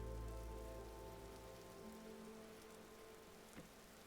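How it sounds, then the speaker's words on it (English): Rain in Vintage Story, a steady soft patter of rainfall on surfaces, faint and continuous, with a low rumble fading out early and a single small knock near the end. "It's raining."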